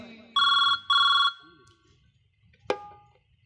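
Telephone bell ringing twice in quick succession, a loud electronic double ring standing alone, followed by a brief sharp click near the end.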